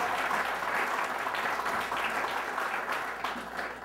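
An audience at a mayor's business town meeting in Somerville, Massachusetts, claps in a short burst of steady, dense applause at moderate loudness, with no voices over it.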